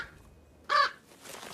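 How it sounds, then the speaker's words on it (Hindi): A crow hidden close by in the wild lets out a single loud caw, sharp and near, with nothing else around it. "पास में एक कौवा छिपा हुआ है जो जोर जोर से कांव कांव कर रहा है।"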